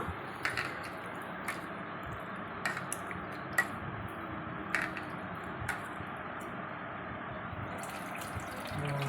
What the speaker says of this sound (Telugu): ఇదిగోండి, చింతపండు పిసుక్కుంటున్నాను.